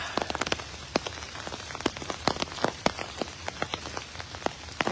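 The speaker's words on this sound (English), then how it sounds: "if the raindrops on the umbrella are too loud" Raindrops patter on an umbrella at a cemetery, close and crisp, with irregular individual taps over a soft continuous hiss of rain.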